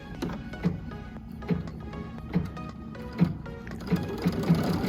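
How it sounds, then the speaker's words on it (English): A Baby Lock Altair sewing machine stitches a satin stitch for machine applique, a close, quiet whirring with soft regular thumps about every 0.8 seconds, no voices. "this is going to be a beautiful satin stitch."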